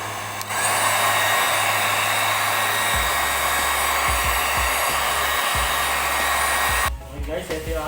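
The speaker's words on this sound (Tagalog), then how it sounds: "gamit tayo ng blower" A hair dryer used as a blower to dry crepe paper flower crafts runs steadily and loudly, a continuous broadband whoosh with a low hum, switching off near the end.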